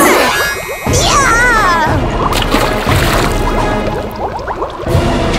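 A cartoon witch plunges into a pot of boiling water on a stove, a wet splash and bubbling squish rising over a background music bed with tonal flourishes, the liquid sloshing continuing for several seconds.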